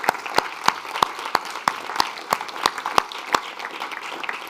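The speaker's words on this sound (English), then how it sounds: "Shalem, a big applause." Scattered applause from a modest audience at a youth dialogue on climate adaptation, individual sharp claps clearly separated in an uneven rhythm, sounding like a small group in a room rather than a large crowd.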